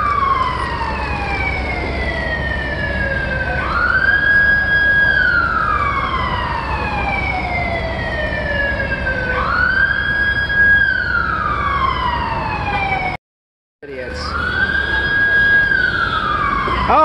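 An ambulance siren wails in rising and falling sweeps while caught in city traffic, loud and close with road noise underneath, cut by a brief dropout near the end.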